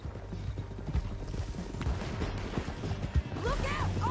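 Horse hooves in the video game Red Dead Redemption 2 clatter steadily under dense action noise and voices, with a short whinny rising near the end.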